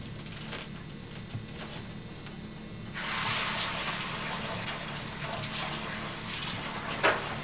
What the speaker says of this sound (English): We're just going to run the knife under hot water a minute.